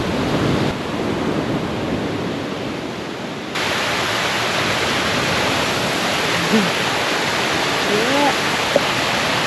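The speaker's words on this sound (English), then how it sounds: "We got a waterfall over there." A waterfall near a Costa Rica beach produces a constant broadband rush with surf blending in. Brief bird chirps come and go late on, and there is no talk.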